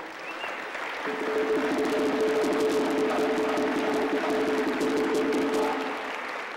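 Crowd applause rises and holds steady at an event honoring members of the New Black Panther Party, a dense wash of clapping with a faint sustained tone beneath, tapering slightly at the end.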